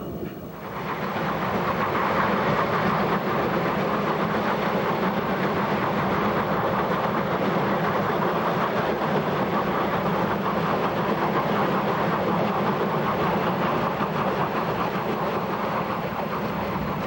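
A steam rotary snowplow work train on the Cumbres & Toltec narrow-gauge line labors steadily, with a loud, continuous roar and hiss that holds unbroken from start to finish.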